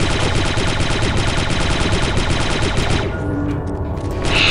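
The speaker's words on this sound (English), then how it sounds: "Shotguns? I didn't think anyone used projectile weapons anymore." Dense, rapid gunfire from shotguns and other weapons in the Star Wars Republic Commando video game, loud and continuous for about three seconds before cutting off into quieter game sounds.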